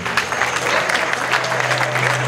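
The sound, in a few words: applause at a national day reception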